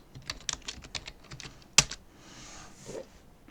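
Rapid clicking keystrokes on a computer keyboard, close and distinct. A sharper key strike lands midway, then the typing fades into quiet.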